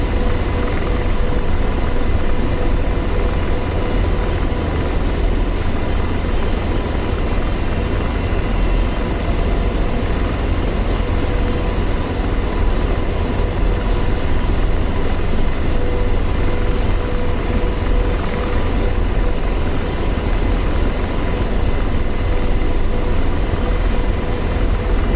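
Apache AH-64D attack helicopter in DCS World flight simulation, Marianas map naval operation: a steady, dense rotor and turbine roar fills the whole stretch, loud and unchanging, with no voices.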